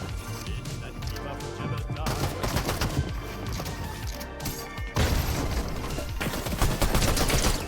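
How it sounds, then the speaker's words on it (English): An assault rifle fires in the video game Fortnite: loud bursts of rapid gunfire crackle in several volleys with short gaps, mixed with impact and crash effects. "This AR is so good."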